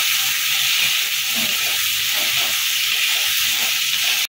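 Vegetables and spices sauté in a pan for a Bengali vegetarian taro dish, a continuous loud sizzling hiss with faint stirring underneath and no talking.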